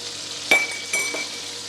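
Oil poured into a hot pan for cooking chicken escalope, giving a steady close sizzle with two brief sharper splashes and clinks partway through.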